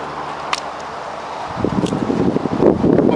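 Gusty wind buffets a microphone outdoors during fire making, a low rumbling roar that swells louder and more turbulent in the second half, with no voices.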